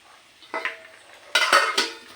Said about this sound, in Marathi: तर आता ही त्याच्यात जिरी मोहरी टाकली, बघू शकता